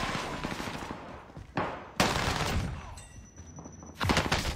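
Gunfire in a shooter video game, several loud bursts of rapid shots separated by brief lulls, with a high electronic tone between volleys.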